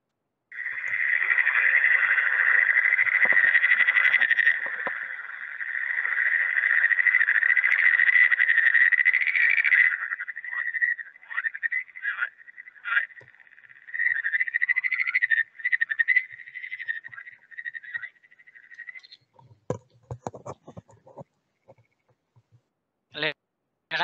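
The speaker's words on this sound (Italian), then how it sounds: "E il gracidio è quello che dovreste aver già sentito, perché lo sentite anche di giorno vicino agli stagni." Green frogs near a pond croak in a dense, continuous chorus for about ten seconds. The chorus then breaks into scattered croaks and fades into clicks and faint rustling.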